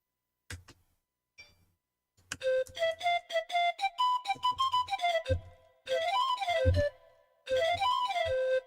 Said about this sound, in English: This is the pan flute sound that I use for this